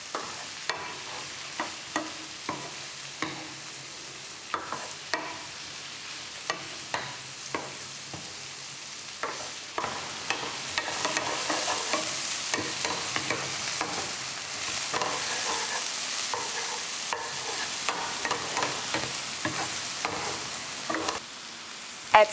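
Okra frying in a pan is stirred with a utensil, leaving a long stretch of regular sharp scraping taps over a low sizzle that thickens midway and keeps up without speech.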